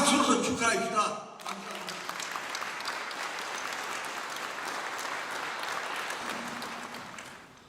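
A gathered audience claps to celebrate a university president's third poetry collection, Trails of the Wheel. A voice speaks briefly at the start, then sustained, even applause carries on for several seconds before starting to thin out.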